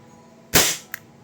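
WE G34 gas blowback airsoft pistol firing a single shot, a sharp loud crack with a short hissing decay, followed by a faint click of the slide.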